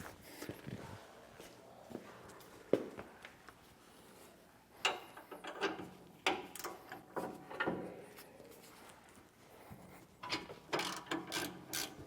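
A ratchet loosens the end link on an anti-sway bar of a 2024 Entegra motorhome, giving faint, irregular clicking bursts and metallic clatter close by, with quiet handling noises between.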